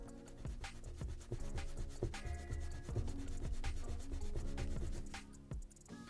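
An eraser rubs back and forth across colored drawing paper in a steady scrubbing texture, mostly buried under loud background music with a beat.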